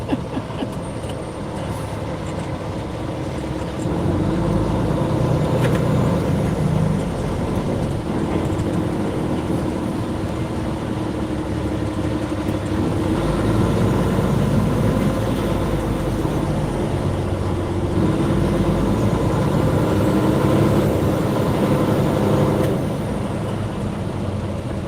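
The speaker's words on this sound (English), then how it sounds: "I'm still in traffic." Steady low road rumble of traffic heard from inside a moving truck cab, a continuous broadband drone that swells slightly after a few seconds and holds, with no talk.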